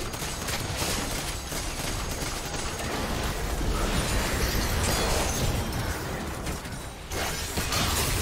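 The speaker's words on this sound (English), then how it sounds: "Blue team's turret has been destroyed." A turret collapses in League of Legends amid a dense, continuous roar of crashing explosions and bursting debris. The sound is loud and sustained for several seconds with no speech.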